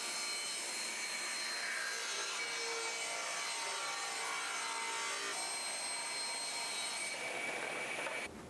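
A saw rips lengthwise through wooden trim casing, taking a 3/4-inch strip off a beaded profile; a steady, close, continuous cutting drone holds for about eight seconds, then cuts off abruptly at the end, with no talking.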